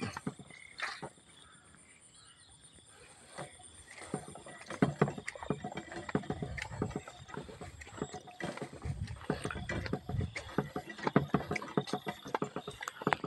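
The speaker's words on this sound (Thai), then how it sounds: "ได้ยินเสียงปลาดิ้น" A fish thrashes in water, splashing and sloshing with irregular bursts, close by, over a steady outdoor background hiss.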